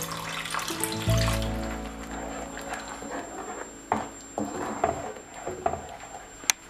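Water is poured into shahi paneer masala in a pan, giving a brief loud splash and sizzle, followed by scattered soft clinks and taps of cooking in a kitchen, with no talk.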